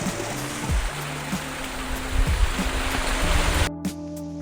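A small waterfall at Vathal Malai in Dharmapuri carries only a little water, making a steady, close rushing and splashing hiss with faint tonal sounds beneath it.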